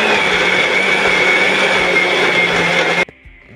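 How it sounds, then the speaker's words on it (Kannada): A mixer grinder runs at full speed grinding chutney to a fine paste, a loud steady whirring drone that cuts off abruptly near the end, leaving near silence. "ಸೊ ಈ ರೀತಿ ಮಿಕ್ಸಿಗೆ ಹಾಕ್ಕೋಬೇಕು ನುಣ್ಣಗೆ"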